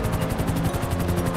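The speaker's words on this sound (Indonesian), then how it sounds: "Upin dan Sultan Bocil sedang berada di dalam helikopter yang sedang terbang" Helicopter in flight, a loud steady rotor drone with rapid rhythmic blade chop throughout, close and alone with no voices.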